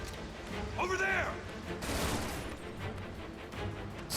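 Gunfire from a Final Fantasy VII Remake battle, a burst of crackling shots around the middle of the moment, heard among game sound effects and combat noise, with a person's voice mixed in.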